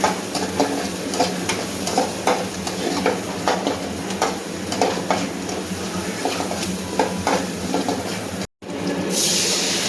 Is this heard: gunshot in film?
no